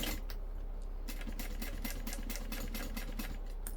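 Sewing machine topstitching along the curve of a handmade bag, a fast steady mechanical stitching rattle with even rhythmic ticks, close and continuous with no talking.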